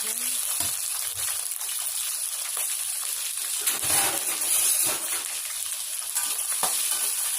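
Onion, green chili and cloves frying in hot oil, a steady loud sizzle with occasional stirring scrapes and bubbling bursts, close up throughout.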